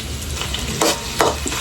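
Ginger sizzling and frying in a pan for Bicol Express, a continuous hiss of oil broken by two brief scraping stirs of a utensil against the pan, with no talking.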